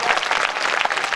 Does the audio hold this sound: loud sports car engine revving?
no